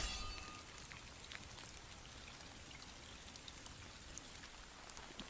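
Steady rain patters down beside a river, a dense, even hiss of drops hitting the surface that continues without a break.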